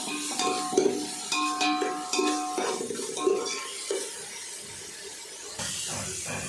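Chicken curry masala frying in a pan for a Tulu-style kori rotti dish, with steady sizzling hiss under repeated scraping stirs and light clinks of a spoon against the metal pan, close and moderately loud.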